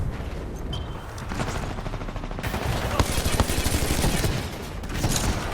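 Gunfire in an online shooter, a dense run of rapid shots and bursts crackling steadily across the stretch, loud and close, with someone talking over it.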